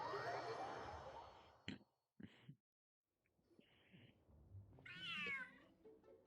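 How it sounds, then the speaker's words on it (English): A cat in the video game Genshin Impact makes a few short vocal sounds, including a rising meow-like cry near the end, broken by brief pauses and soft background noise. "The cat is hissing at me, Miss Rosaria."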